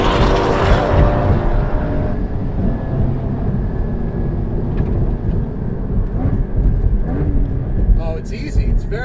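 Porsche Cayman GT4 engine at full throttle on a track, a loud, sustained howl rising and shifting pitch as the car moves through gears, with tire and wind noise and someone speaking over it.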